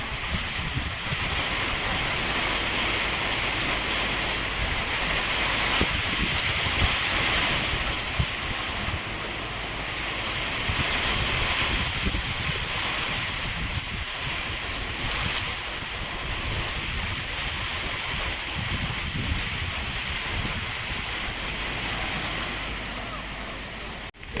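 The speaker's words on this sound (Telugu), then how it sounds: "మంచిగా వర్షం పడుతుందండి" Rain falls steadily on a garden site, a continuous broadband hiss lasting throughout, with a voice speaking over it at times.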